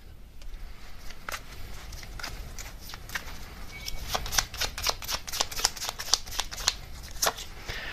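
Tarot cards are shuffled close up, with soft riffling at first building into a quick run of sharp, crisp card flicks and snaps before a card is drawn, all fairly quiet against a low background hum.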